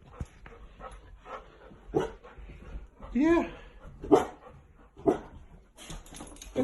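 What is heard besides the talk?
puppy barking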